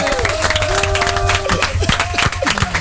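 A crowd claps and cheers for a performer named Arthur, the clapping dense and continuous throughout, with voices shouting over it and tonal whistles or calls rising above the clatter.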